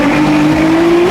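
Tires on a 1000hp Corvette spin and squeal as the engine revs hard, a loud sustained whine with a rising tone running throughout, close and dominant with no voices over it.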